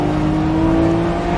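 A 2024 Lamborghini Revuelto, the mid-engine successor to the Aventador, pulls out of a corner with a loud, steady engine roar and a high whirring tone, heard close and alone.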